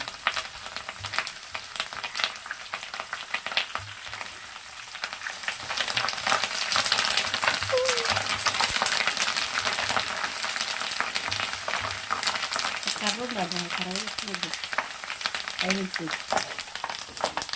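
Mustard seeds and spices for a cabbage pickle tempering fry in hot oil, with a dense crackling sizzle that swells midway and continues under nearby voices talking.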